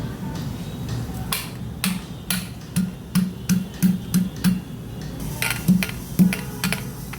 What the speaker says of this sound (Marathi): 10-12 लसूण पाकळ्या घेतल्या, त्या ठेचून घेऊया.